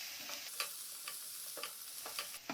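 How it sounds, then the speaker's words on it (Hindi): Garlic mushrooms stir-fried in a pan, a steady bright sizzle broken by quick scraping stirs of the spatula, close and fairly soft, with no voices. "अब इन्हें अच्छे से मिक्स कर लेंगे और 1 मिनट तक इसे पकाएंगे।"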